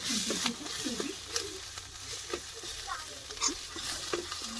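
Chicken pieces go into a pan of frying onions, producing a soft sizzle and patter with scattered stirring clinks and scrapes, fairly faint and close, and some background voices.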